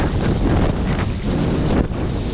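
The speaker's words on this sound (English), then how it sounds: "when you're in a 30 mile per hour wind, the forces are a lot stronger" Strong 30 mph wind roars over Lake Washington during a kayak outing, a loud, steady broadband rush with gusty swells buffeting the microphone throughout, with no voices.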